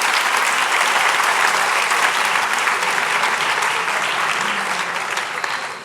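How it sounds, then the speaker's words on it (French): Sustained audience applause at a university's academic year opening ceremony, loud, even clapping from a large crowd that tapers a little toward the end. "On peut applaudir."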